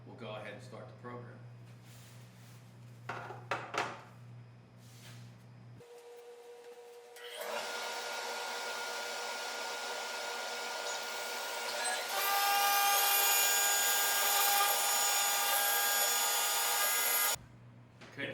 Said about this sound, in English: Once the dust collection is turned on, we'll go ahead and start the program.